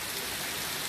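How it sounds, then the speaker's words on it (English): Rain falls steadily on a stormy day, a dense, even hiss of drops on surfaces, moderately quiet and continuous with no distinct individual drops or voices. "Yep, it's a stormy day"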